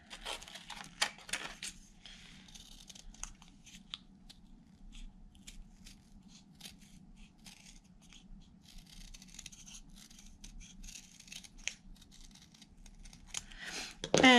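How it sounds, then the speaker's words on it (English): Scissors snip a ring out of material for the base of a 1:12 scale miniature Victorian bathtub, giving quiet, close cutting clicks and rustles over a steady low hum, with a louder handling noise at the end. "we're going to simply cut that ring out so I can have a base"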